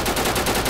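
Rapid machine-gun fire from a war video game, a short burst of evenly spaced shots with no talk over it.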